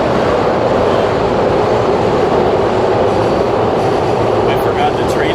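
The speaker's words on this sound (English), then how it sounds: "I forgot the trains are so loud here." A train passes loudly at close range, a dense continuous roar of wheels and rumble that stays steady throughout, with faint squeals near the end.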